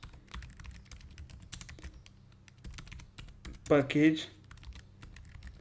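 Computer keyboard typing, light irregular clicks of keys in quick bursts, with a short stretch of speech in French partway through.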